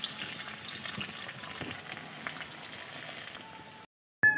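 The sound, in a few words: potatoes and cauliflower frying in a wok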